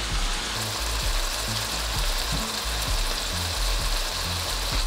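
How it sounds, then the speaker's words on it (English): Chicken liver fries steadily in hot oil in a Jamaican-style dish, a dense, even sizzle and crackle with faint soft pops and stirring thumps, close and continuous throughout. "I'm gonna fry up the chicken liver for 15 minutes before I drain the oil"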